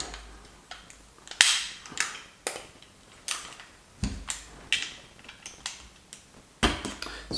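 A jammed receiver is worked loose from a First Strike T15 paintball marker, giving a series of sharp metallic clicks, knocks and scrapes at irregular intervals, close by and with no talking.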